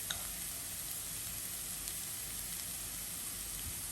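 Chopped garlic and onion fry in a pan for a tuna sandwich filling, giving a soft, continuous sizzle with a faint hiss throughout; quiet and steady, no voices.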